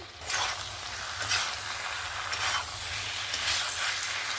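Cauliflower and potato curry being stirred in a pan: a steady broadband sizzle with repeated scraping strokes of a spoon at a regular pace, close and fairly loud, with no voices.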